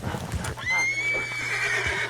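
A horse in Red Dead Redemption 2 gives a loud, close whinny, a long high neigh that follows a few snorts and hoof clops.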